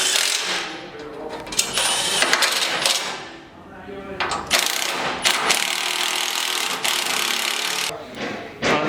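Bolts on a Rockarmor bull bar for a D40 Navara are tightened with a hand tool, giving metallic clicks, ratcheting rasps and scraping knocks in uneven bursts, close and moderately loud.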